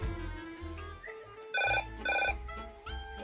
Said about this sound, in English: another phone call